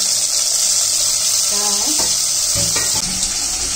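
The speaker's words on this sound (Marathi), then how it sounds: "टोमॅटो द्राक्ष आणले ते धुवून घेतले" Tap water runs loudly and steadily over tomatoes and grapes being washed, a constant hissing splash near at hand while a person talks briefly over it.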